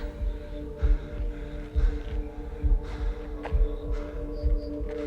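Heartbeat sound effect in an audio drama, a steady throbbing pulse of low thumps roughly once a second over a continuous hum, with no voices.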